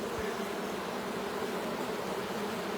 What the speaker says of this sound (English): the bees, they're flapping their wings